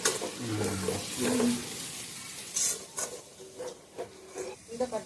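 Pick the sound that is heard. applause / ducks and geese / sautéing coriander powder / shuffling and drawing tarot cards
sautéing coriander powder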